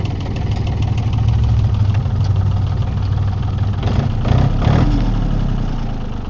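A John Deere 870 tractor engine idles close by with a steady low diesel rumble and faint knocking, holding an even rhythm throughout with a slight surge toward the end.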